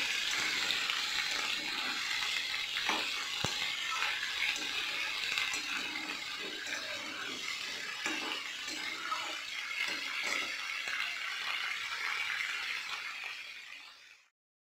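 Vegetables with peas frying in a pan for a beetroot dish give a steady, fairly loud sizzling hiss. A few soft stirring knocks sound throughout, and the sizzle fades out at the very end.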